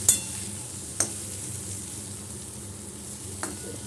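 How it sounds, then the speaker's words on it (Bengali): Aubergine pieces fry in a pan with a steady, low sizzle. Three sharp utensil clinks against the pan break through the hiss near the start, at about one second, and near the end. "বেগুনটা ভাজা হয়ে গেছে"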